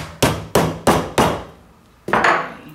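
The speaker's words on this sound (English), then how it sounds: "we're just gonna give it a good whack here" A hammer strikes a flat brass flower piece to dap it, four sharp evenly spaced whacks followed by a pause and one more blow, loud and close with no talking.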